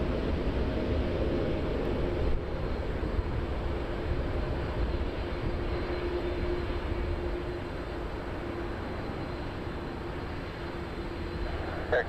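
Steady, loud broadband roar of a jet airliner at Montréal-Trudeau Airport, a continuous engine rumble holding level throughout with no talk.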